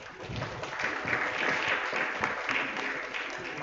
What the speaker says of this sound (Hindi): अगर अच्छे लग रहे हैं तो तालियां जोरदार हो जानी चाहिए।